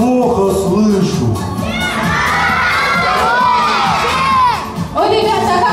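A crowd of children at a New Year party shouts a greeting together in loud, sustained unison, with whoops and cheering rising over the din before it fades.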